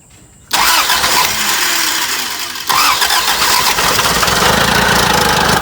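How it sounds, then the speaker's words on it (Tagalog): A hard-starting engine that misfires cranks and catches abruptly, then settles into a loud, close, rough running roar with a jump in intensity partway through, no voices. "paandarin muna natin at marinig ninyo yung andar niya"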